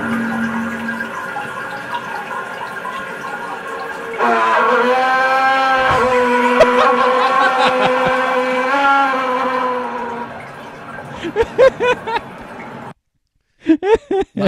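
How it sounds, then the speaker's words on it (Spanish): A toilet tank refilling after a flush: a steady rush of water with a rising tonal hiss that fades out after several seconds, followed by a few scattered clunks. "Ahí empieza a cargar el tanque."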